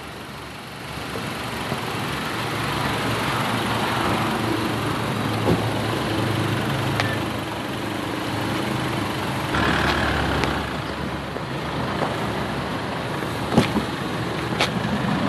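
A Honda CR-V being test driven for jerky gear shifts is heard from inside the cabin. A steady engine and road hum drones throughout, with a few faint clicks and knocks and no talking.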